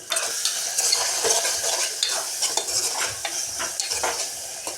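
Onions, green chillies and tomatoes cook in a pan with a continuous close sizzle, overlaid with frequent scraping and tapping of a spoon stirring against the pan.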